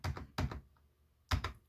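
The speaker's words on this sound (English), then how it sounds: "And I can type this in." Typing on a computer keyboard, heard as three short bursts of close, crisp key clicks separated by brief pauses.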